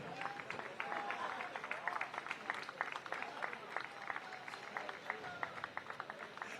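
An audience at a literary award ceremony gives a standing welcome to Javed Akhtar with steady, fairly distant applause of many hands throughout, with a voice heard faintly over it.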